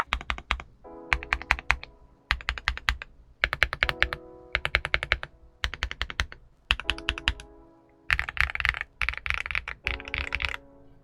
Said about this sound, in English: let's go ahead and just get a quick preview of what it sounds like.